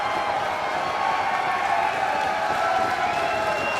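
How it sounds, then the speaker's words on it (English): A large crowd at a lucha wrestling match roars in a steady, loud wash of cheering and clapping that holds without a break. "The crowd is loving it"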